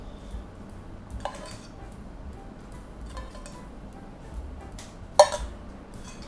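Fish sauce and palm sugar are mixed in a bowl for a fermented-fish dipping sauce, with a few sparse, faint spoon clinks against the bowl over quiet background.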